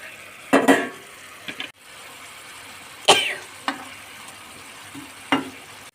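Fried sesame fritters dropped into a simmering curry in a pan, giving a few separate clattering splashes and stirs against a soft steady sizzle.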